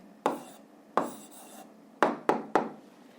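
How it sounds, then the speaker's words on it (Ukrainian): A physics exercise answer being written by hand: five separate scratchy strokes in quick, uneven succession, close and fairly crisp, with silence between them and no talking. "записуємо відповідь, пишемо відповідь"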